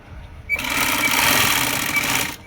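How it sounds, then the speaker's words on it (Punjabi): A sewing machine stitching a seam on palazzo pants, starting abruptly and running in one fast, steady whirring burst for about two seconds before stopping, close and clear. "ਆ ਦੇਖੋ ਹੁਣ ਆਪਾਂ ਇਧਰੋਂ ਲਾਵਾਂਗੇ ਸਲਾਈ"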